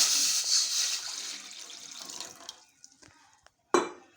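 Water pours into a pot as the first step of making Kashmiri pink tea, a steady broadband splash for about two and a half seconds that fades out, followed by a few faint clinks and one sharp, louder knock near the end.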